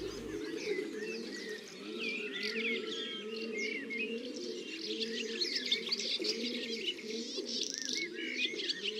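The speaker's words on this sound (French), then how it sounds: "Ici, 2 jeunes pigeons." Two young pigeons in a bird-friendly garden call with soft repeated cooing, layered over steady chirps and tweets from other birds, continuous and fairly close with no talk.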